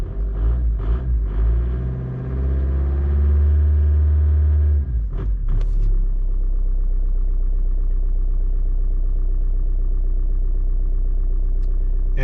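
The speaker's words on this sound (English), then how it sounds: "Because the car is running well, the pump's quieting down." A Volkswagen 1.9 TDI ALH diesel engine idles after a cold start at -15 °C, a steady, loud, close mechanical rumble that follows a brief revving burst at the start, then holds an even idle.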